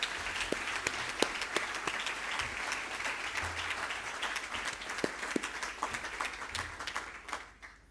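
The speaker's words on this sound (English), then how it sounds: "Let's give Premier and Mrs. Windy a big round of applause." Audience applause at a 2024 education awards ceremony, a dense steady wash of many hands clapping that carries on for several seconds before thinning out at the end.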